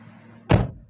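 A single solid slam as the door of a 2005 Suzuki Aerio facelift is shut from inside, one sharp close thud over faint background hum.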